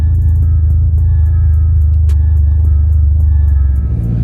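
A modified car engine with a new intake idling up close, a loud steady low rumble with a rhythmic pulse and faint ticking on top, alone with no talk.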